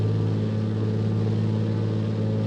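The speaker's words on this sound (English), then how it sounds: "Bring that engine noise down a little bit." A simulated Piper Archer III single-engine piston aircraft in X-Plane 11 drones at steady power during a climb, a constant low, buzzing engine hum filling the whole stretch without pause.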